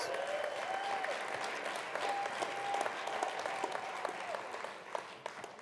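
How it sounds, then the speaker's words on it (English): An audience claps steadily in a dense, sustained round of applause, filling the space with an even patter that carries on throughout. "let's give them a big round of applause."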